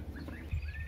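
Young chick on a small farm peeping insistently, a few faint rising chirps over a quiet low background rumble.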